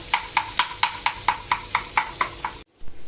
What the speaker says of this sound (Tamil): இப்போ இந்த சிக்கனை கொஞ்சம் நம்ம பொடிசாக்கிக்கலாம்